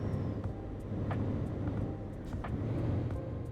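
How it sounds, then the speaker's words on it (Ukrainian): A large truck driving on a British road, a steady low engine rumble and road noise heard from inside the cab, continuous and fairly loud with faint higher whines and clicks. "Я на великій вантажівці."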